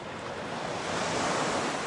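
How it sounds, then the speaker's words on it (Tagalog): Sea waves washing onto a shore in Bicol, a continuous broad rushing surf that swells slightly louder in the second half, with no voices. "Yun yung dagat."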